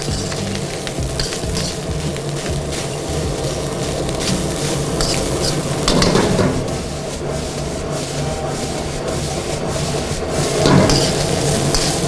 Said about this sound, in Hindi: इस तरीके से आप स्टेयर फ्राई करते हैं कोई भी चाइनीज़ आइटम में, ताकि उनमें स्टेयर फ्राई का नीचे से कोई चीज़ लगे नहीं।